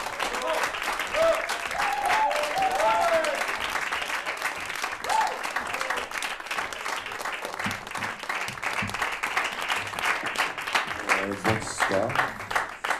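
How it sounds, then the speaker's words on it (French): An audience at an actor's masterclass in Lausanne applauds continuously and loudly, a dense wash of clapping that holds steady throughout with voices faintly mixed in. "le comédien Damien Bonnard, que je vous demande d'applaudir, s'il vous plaît."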